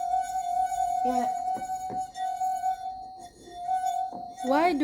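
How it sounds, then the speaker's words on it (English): Wine glass rim rubbed by a finger, producing a sustained pure ringing tone that holds steady across the clip, while children talk over it. "Why do they have the sound from the glass?"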